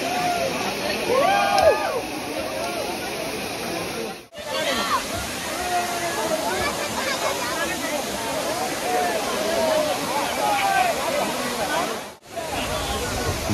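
Dudhsagar waterfall in Goa roars as a broad, constant rush of falling water nearby. Voices chatter faintly beneath it, and two short dropouts briefly interrupt the sound.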